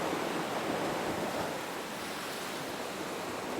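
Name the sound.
ocean waves roaring, hissing and splashing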